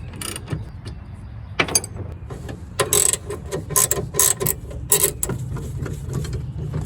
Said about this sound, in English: I'm going to try and take some of the bolts apart and get the seat to move